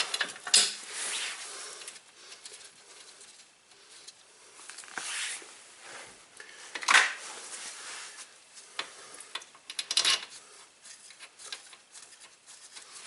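A bolt is started by hand into a Subaru hub assembly during a rusty hub replacement, giving sparse close metallic clicks, taps and light scraping with quiet gaps between them.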